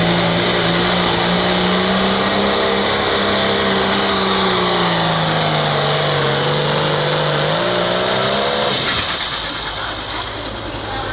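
A Limited Pro pulling tractor at a Southern Illinois pulling event roars loudly and steadily on the track, its engine pitch slowly dipping and rising before dropping off sharply near the end.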